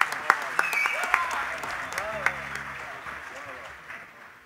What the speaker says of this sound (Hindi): तालियों की भी बारिश होनी चाहिए।